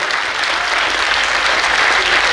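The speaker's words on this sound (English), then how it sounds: "big round of applause. I want you all to give." Loud, close applause from an audience at the end of a question round with a group captain, dense even clapping that holds steady throughout the short stretch.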